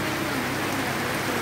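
Steady rain falling during a motorcycle ride on a MIO 125 in Claveria, Misamis Oriental, a dense continuous hiss of drops on surfaces, close and unbroken, with no voices.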